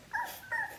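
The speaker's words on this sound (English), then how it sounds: "This dog has not stopped barking its tiny squeaky voice." A small puppy gives two short, high-pitched squeaky yips or whimpers in quick succession, close and fairly quiet, with no talking.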